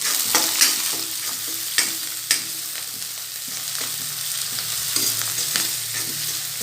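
Chopped onions and coriander leaves sautéing in a pan give off a moderate, steady sizzle, broken by several sharp scraping stir strokes. No one speaks.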